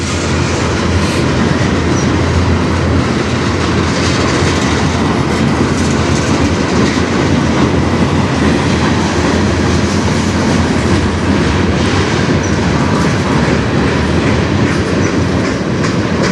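A CN freight train rolls past close by on the Strathroy Subdivision, a loud, continuous rumble with rhythmic clickety-clack of wagon wheels and faint wheel squeal throughout.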